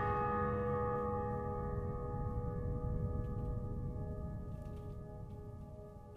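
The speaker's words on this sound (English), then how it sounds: "There is actually a Bell of Fate in Utopioka. It's very strange. But let's ring it." The Bell of Fate rung in Utopioka in the video game Knytt Underground: one deep, resonant strike whose layered tones ring on and slowly decay, with no talk.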